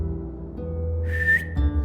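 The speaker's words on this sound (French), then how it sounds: "siffle et dis-lui de se coucher" A person gives a short, clear whistle as a command for a dog to lie down, a single sustained tone of moderate loudness heard alone over a low background hum.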